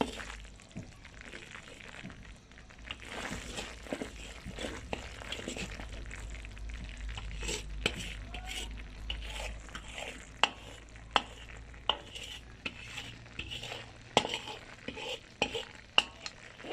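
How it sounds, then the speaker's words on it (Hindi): A spoon stirs and scrapes sooji halwa in a pan, with soft sizzling and repeated sharp clinks of metal on the pan over a low, steady background. "ऐसे ऐसे चम्मच हिलाएं इसमें"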